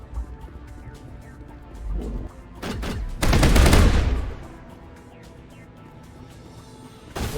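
Crew members open fire in a Mass Effect battle, bursts of gunfire crackling through the middle of the scene, loudest in a dense volley that fades back to quieter game ambience.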